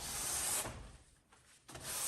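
A damp, wrung-out rag wipes along caulk adhesive on garage door foam board insulation, giving close, soft rubbing strokes that break off briefly before a final wipe, with no talking.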